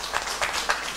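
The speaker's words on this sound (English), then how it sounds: "Can we clap for our ministry officials?" A short burst of audience applause for ministry officials at a results-release ceremony, a room of people clapping together in a dense, moderately loud patter.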